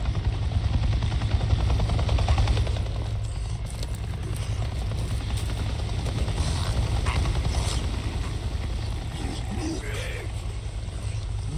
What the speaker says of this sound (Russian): Я только что видел вертолет!